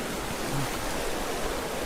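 Steady rushing water fills the scene, a broad continuous wash like a river flowing nearby, with no voices.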